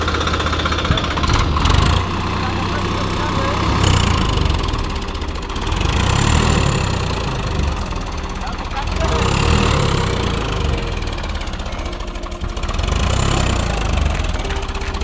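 A Swaraj 855 FE tractor engine chugs steadily in first gear near muddy ground, a loud low rumble that swells and eases, with people talking over it.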